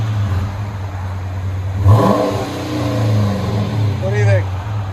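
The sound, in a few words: 2013 Chrysler 300 S 5.7L HEMI revving, muffler delete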